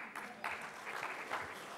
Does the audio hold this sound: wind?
no